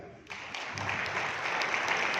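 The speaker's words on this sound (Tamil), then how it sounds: "மேலே கைதட்டுங்க" A gathered audience breaks into clapping after a short quiet moment, quickly swelling into a steady, dense round of applause that continues without speech.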